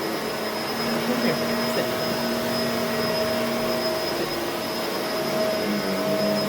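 A Bissell MultiClean Allergen Lift Off Pet vacuum cleaner runs with a steady, loud motor whine and airflow roar throughout, while a person briefly calls to a dog over the noise.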